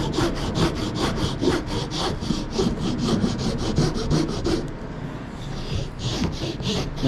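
Steady back-and-forth rasping of a curved file working a hand-carved wooden wand, rhythmic strokes about twice a second, close and continuous, pausing briefly near the end before resuming.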